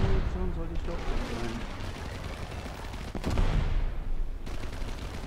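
Gunfire from a Fokker D.XXI's 20 mm cannon in the War Thunder combat flight game, a dense rattling barrage mixed with engine roar and battle noise, with a voice talking over parts of it.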